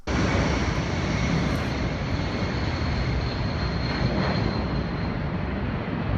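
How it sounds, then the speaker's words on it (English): A low-flying airplane at an Australian air show roars steadily and loudly overhead, its engine drone sustained without a break. "there was an air show in Australia where planes flew really close to buildings"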